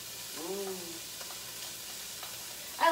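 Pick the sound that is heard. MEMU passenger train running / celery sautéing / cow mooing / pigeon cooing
celery sautéing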